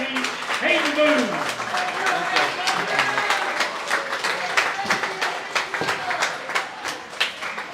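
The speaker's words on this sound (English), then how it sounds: "Everybody give a big round of applause for our player of the week, Hayden Boone." Applause at a high school football coach's show for the player of the week, steady clapping from a small crowd in a room, moderately loud and continuous, with voices talking over the clapping.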